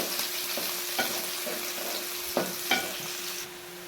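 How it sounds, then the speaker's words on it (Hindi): Onion frying in oil in a pan with occasional stirring scrapes, a steady close sizzle with a few louder clacks of the spoon against the pan; no talk. "उसी ऑयल के अंदर हमने एक प्याज डाल दिया। प्याज को हमने इसमें अच्छी तरह"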